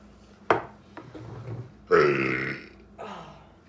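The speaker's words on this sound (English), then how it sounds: "We have a burping challenge. Excuse you." Loud, croaking burps erupt during a waffle-eating contest, one short burp near the start and a longer drawn-out belch in the middle, followed by another shorter one, with a voice murmuring between them.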